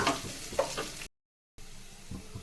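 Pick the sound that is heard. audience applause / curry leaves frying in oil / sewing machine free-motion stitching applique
curry leaves frying in oil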